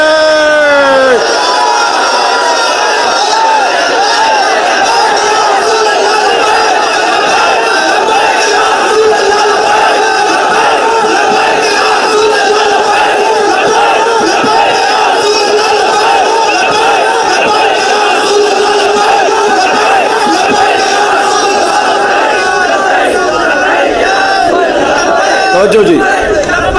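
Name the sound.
crowd chanting the slogan Labbaik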